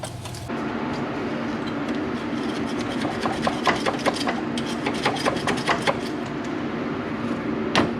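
A metal scraper rasps grime off parts of a 1981 El Camino's steering gear, giving steady close scraping with a run of short, repeated strokes over constant background noise.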